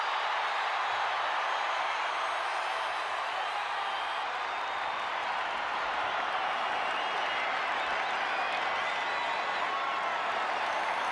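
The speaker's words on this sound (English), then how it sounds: "The WWE Universe loves cheering on the EST." Steady roar of a large arena crowd cheering for a wrestler in the WWE 2K25 video game, a dense continuous wash of cheers and applause that stays level throughout with no clear voices standing out.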